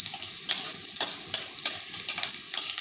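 Vegetables browning in a little extra oil in a pan, a continuous close sizzle broken by repeated scraping stirs about every half second, no voices.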